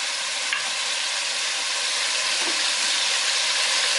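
Chicken sizzles and fries in a pan with spices, a steady close hiss with faint stirring scrapes throughout.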